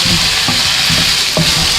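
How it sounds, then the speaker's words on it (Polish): Cucumbers and garlic sizzle loudly and steadily in a frying pan while being prepared for a beet salad, with a few soft stirring clinks of a utensil against the pan. No one speaks. "Dodajemy czosnek i wszystko razem chwileczkę jeszcze podsmażamy."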